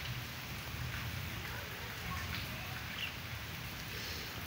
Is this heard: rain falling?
yes